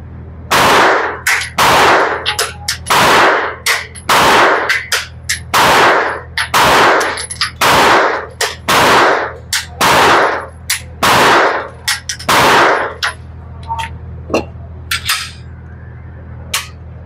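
A pistol fires roughly fifteen sharp, loud shots in a fairly regular rhythm, each with a short ringing tail, the last few spaced more loosely.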